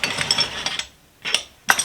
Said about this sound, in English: Loose wrenches.